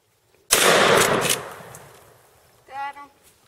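A single loud, close gunshot fired while duck hunting (a wood duck is downed), cracking sharply and decaying over about two seconds, followed by a brief voice.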